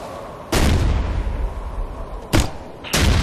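Frag grenade blasts in the shooter game Ghost Recon Future Soldier, three loud, broadband booms, the second brief and the others with a long rumbling tail, over a steady roar of battle noise.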